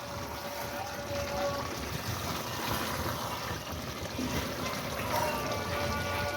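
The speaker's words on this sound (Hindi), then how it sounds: "इसमें बबल आने लगे, ये पानी ऑलमोस्ट इसमें ख़त्म होने वाला है" Water bubbling steadily in a pot of chicken pulao as the cooking liquid nearly cooks off, a continuous soft simmering hiss and burble at moderate level with no pauses.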